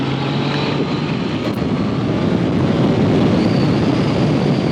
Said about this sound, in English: Listen to that engine. That is just a peach of an engine.